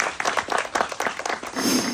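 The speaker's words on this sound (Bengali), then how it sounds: "তালি আশা করছি।" Village audience clapping for a blindfolded woman in a bamboo-pole ring toss game, a fairly loud burst of scattered applause lasting about two seconds.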